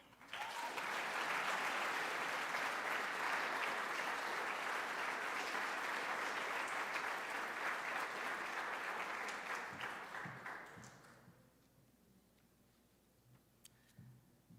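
An audience at a high school academic awards ceremony applauds the award winners with sustained, dense clapping that fades out after about ten seconds, leaving a quiet room with a few faint ticks.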